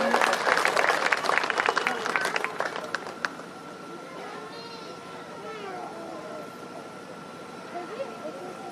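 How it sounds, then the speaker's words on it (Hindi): Loud crowd clapping for about three seconds at an agricultural cooperative's anniversary ceremony, then it fades out, leaving quieter background chatter and a steady tone. "उनके लिए भी जोरदार ताली एक बार।"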